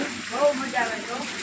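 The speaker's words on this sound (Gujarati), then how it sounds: "જો આવો જોરદાર વરસાદ ચાલુ છે" Heavy rain pours steadily during a downpour in a Gujarat village that has lasted three days, a dense, even hiss of water close by with no breaks.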